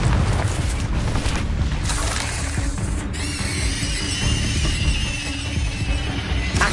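Confringo fire spells burst during a Hogwarts Legacy duel, with loud, dense booming blasts and crackling debris in continuous battle noise and a rising whine partway through.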